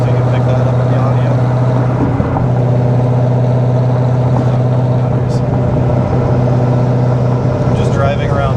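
Steady drone from inside a cammed, pulley-swapped Camaro ZL1 cruising around town on noisier tires: constant road and tire roar blends with a low engine hum, even and unbroken throughout.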